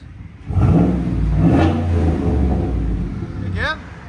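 Close by, a 2018 GMC Sierra Denali 6.2L V8 fitted with a CARVEN R-Series exhaust, resonator delete and 5-inch tip, lets out one loud rev that swells and holds before dropping back toward idle, with a short voice sound near the end.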